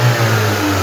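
A Daewoo Matiz fitted with a 1.2-litre Spark engine runs close by, a loud, steady mid-pitched engine drone lasting under a second with no voices.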